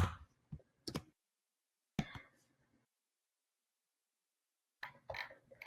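Typing on a computer keyboard: quick bursts of sharp key clicks separated by long silent pauses, close and quiet with no voices.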